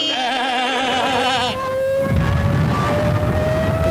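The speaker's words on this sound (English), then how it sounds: "That noise was a propeller driving a siren" The propeller-driven dive siren of a Junkers Ju 87 Stuka: a loud, wavering wail that settles into a long, steadily rising scream, with a rushing roar building underneath. It is heard alone, with no talk.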